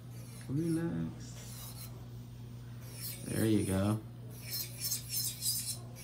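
A nail file rasps against acrylic nails in short scraping strokes, close and fairly quiet, with a steady electrical hum underneath and someone speaking briefly between the strokes.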